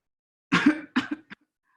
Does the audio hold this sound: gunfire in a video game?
no